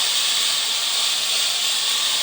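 A jewelry steam cleaner, the Silver Dragon, hisses continuously at close range, a loud, even rush of steam with no breaks and no voices.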